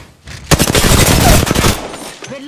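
Rapid automatic gunfire in a battle royale shooter game, a loud sustained burst of shots lasting over a second, close and dominating, with faint game sounds around it.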